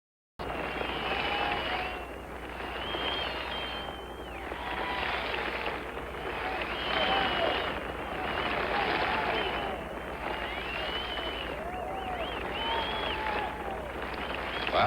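A large golf crowd applauds steadily for the whole stretch, a dense, sustained clapping roar with scattered whistles and cheers, a voice faintly underneath.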